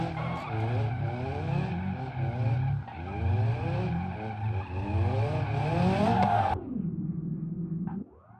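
In BeamNG.drive, a drifting car's tires squeal in long, wavering, pitch-sliding wails over the engine, then cut off abruptly near the end.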